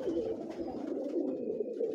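Pigeons on a Lahore rooftop coo softly and steadily, a low rolling warble that continues through the moment with faint background noise.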